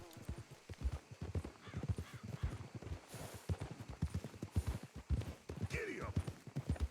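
Horse galloping in Red Dead Redemption 2, rapid rhythmic hoofbeats close and steady throughout, with a whinny near the end and voices talking over the pounding.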